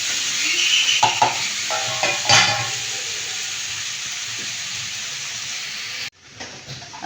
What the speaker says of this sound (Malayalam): ഇത് നന്നായി ഇളക്കുക.